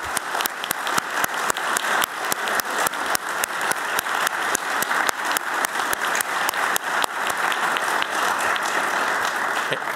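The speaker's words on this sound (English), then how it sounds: "I want all of you to join in giving a warm round of applause to all of our awardees." A ceremony audience at the U.S. Secretary of State's award event gives dense, sustained applause for the honorees, many hands clapping steadily and loudly throughout without pause.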